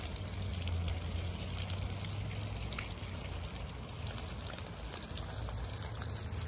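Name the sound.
water poured on plants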